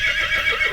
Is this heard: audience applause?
no